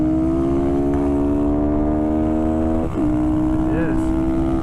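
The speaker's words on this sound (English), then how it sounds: "Sounds like another Grom." Honda Grom motorcycles racing on a road-racing track, one following close behind, with steady high engine whine, a brief shift, and another bike's pitch swinging past, loud and near throughout.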